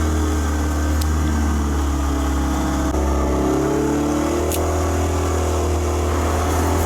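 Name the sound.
Raffo Belva kit car engine racing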